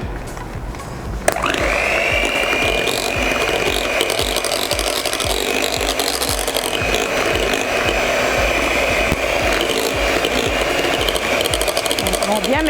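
Small electric mixer whirring as it blends a moisturising hair mask in a bowl. It switches on after a second and keeps a steady, close, high-pitched buzz.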